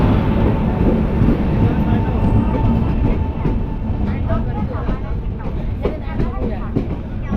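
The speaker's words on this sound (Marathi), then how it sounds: "आपली ट्रेन आलेली आहे या ट्रेनने चढायचं आहे" Low rumbling of a train arriving nearby on a Konkan-to-Mumbai journey, steady and loud, with a person talking over it and some clatter toward the end.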